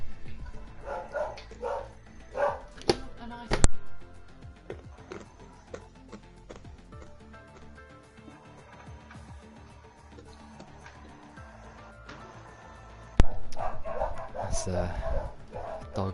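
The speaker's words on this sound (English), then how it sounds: "Dogs." Several dogs barking in sharp, scattered bursts, some close and loud, others fainter, with a cluster early on and another burst near the end, mixed with people talking in the background.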